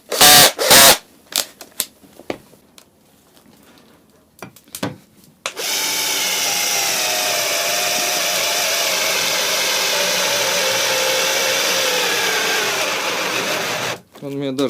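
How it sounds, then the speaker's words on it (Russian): A Makita 14 V cordless drill with a 10 mm bit bores into 3 mm metal, a loud steady whining grind lasting several seconds after scattered clicks and handling knocks. "на довольно-таки слабеньком шуруповерте Makita в 14 вольт. Сверло 10 мм. Металл 3 мм."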